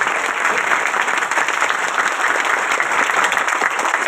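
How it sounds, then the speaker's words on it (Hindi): An audience at a Hindi business seminar breaks into loud, sustained applause, dense rapid clapping from a big crowd filling the room continuously without letup. "ताली जबरदस्त होनी चाहिए।"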